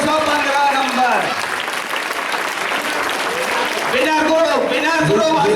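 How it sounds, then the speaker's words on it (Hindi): A crowd at an Islamic quiz social gathering applauds the winning group, loud continuous clapping throughout while a voice speaks over it. "जोरदार ताली बजाइए हजरत फातिमा ग्रुप के लिए।"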